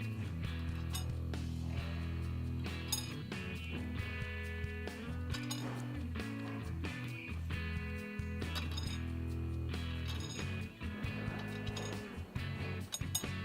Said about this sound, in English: just going to take our flat washer and place one of those